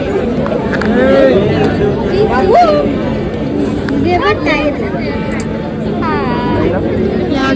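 A busy crowd murmurs and chatters in the packed Mahalaxmi temple in Kolhapur, with overlapping voices near and far and a nearby person talking over the steady hubbub.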